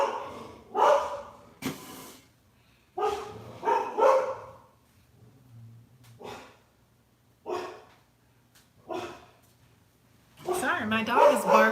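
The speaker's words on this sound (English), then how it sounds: "Sorry, my dog is barking" A dog barks repeatedly in bursts, some distant and muffled, in an indoor room while a person talks nearby between and over the barks.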